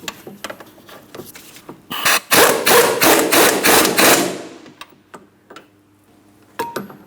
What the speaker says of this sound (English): Now as we tighten our upper ball joint mounting nut